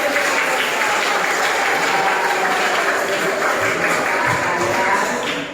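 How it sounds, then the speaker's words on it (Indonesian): Steady applause from a classroom of students fills the whole stretch, dense and even, tapering slightly at the end. "Tepuk tangan."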